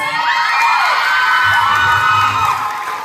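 A pageant crowd at a Miss Gay contest in Capalonga, Camarines Norte erupts in loud, high-pitched shrieks, whoops and cheering, a dense close roar with clapping mixed in and no voice speaking over it.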